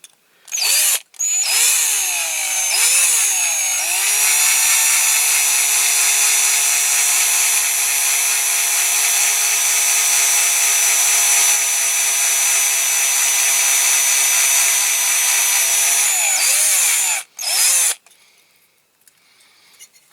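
A power drill runs steadily on a Dinky Toys RAF Pressure Refueller (No.642) model during restoration, a loud continuous whine held at a slow, even speed for about fifteen seconds between short starts and a clean stop.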